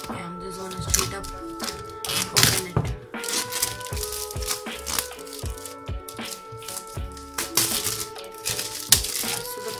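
Plastic wrapper being peeled and crinkled off a OnePlus 5T Star Wars Limited Edition phone box, with busy rustling and crackling close to the microphone for several seconds under occasional speech.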